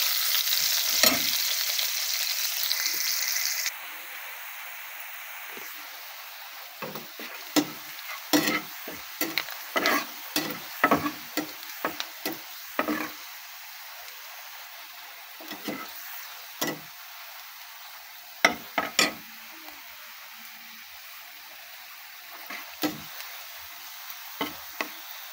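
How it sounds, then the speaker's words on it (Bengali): Onions frying in a pan for a small-fish curry with lemon leaves, a hiss at first then repeated sharp scrapes and clicks of a spoon stirring against the pan, close and intermittent. "পেঁয়াজটা লাল করে নেব।"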